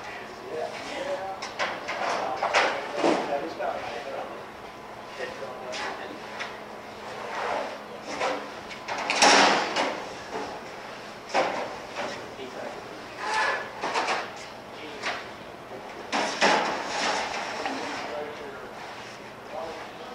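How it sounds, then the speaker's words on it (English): The front doors of a subscription equipment-loading cart are opened, giving a series of metallic clunks, latch clicks and rattling knocks, some louder than others, spread out over time while a person talks. "The front doors are going to be opened, and then essentially the equipment can be loaded into place."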